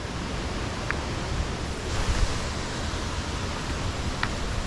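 Water pouring over a dam bund at Lakshapana waterfall in Sri Lanka, a steady broadband rush of flowing water with wind noise, continuous and fairly loud throughout.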